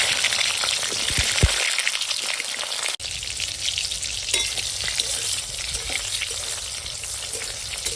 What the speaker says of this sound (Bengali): আর তেল হয়ে গেছে গরম, তো এখন ভেজে নেব পটল।